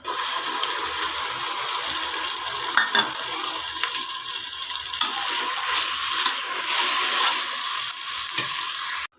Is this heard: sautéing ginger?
yes